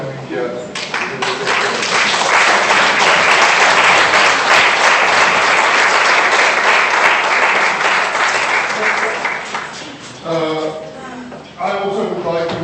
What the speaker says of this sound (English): stand up so that we can give you a applause